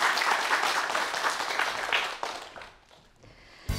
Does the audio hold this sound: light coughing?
no